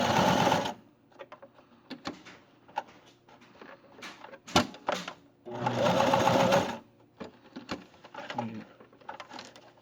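A sewing machine stitching fabric for a homemade face mask runs in close, loud bursts of rapid whirring, about two long runs and a few short ones, separated by clicks and handling noises.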